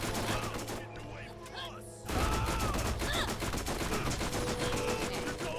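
SMG gunfire in the Borderlands video game, rapid continuous bursts of automatic shots close and loud, with a brief lull before a denser stretch of firing, under game effects and a voice talking.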